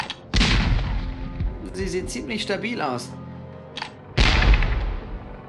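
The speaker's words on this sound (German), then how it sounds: "es ist eine der neuen selbstnachladenden Kanonen, von denen ich so viel gehört habe" Self-reloading cannon in The Curse of Monkey Island firing two loud, booming blasts a few seconds apart, with a character speaking between the shots.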